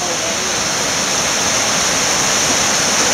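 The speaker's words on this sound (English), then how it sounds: "Got the waterfall coming in there, moving, coming around." A waterfall at a creek campsite in Lenoir, North Carolina pours in a loud, continuous broadband rush of falling water, steady and close throughout with no voices.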